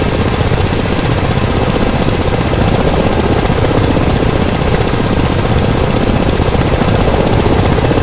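Ka-50 helicopter flying in a video game, its steady, loud rotor and turbine drone holding constant throughout with no talk over it.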